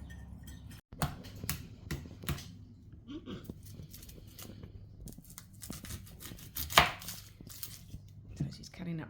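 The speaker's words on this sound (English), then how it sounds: "So she's cutting up the onion." A knife chops an onion on a board for a beef stew, a run of quick, uneven close taps with brief pauses, faint room sound and a little low talk.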